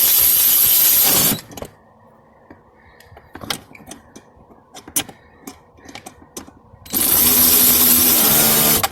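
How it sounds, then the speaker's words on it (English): Electric ratchet driving the screws on the cabin air filter cover of a 2017 Mercedes-Benz Metris 2.0L, heard as two loud, steady whirring bursts near the start and end, with faint ticks and clicks of handling between them. "if you have a ratchet, electric ratchet, you can get in there and get these guys tight."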